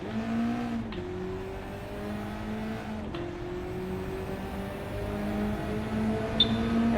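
Race car engine in Gran Turismo 7 droning steadily at high revs, with its pitch dropping twice at gear shifts and then climbing again, at a moderate level and with no talking.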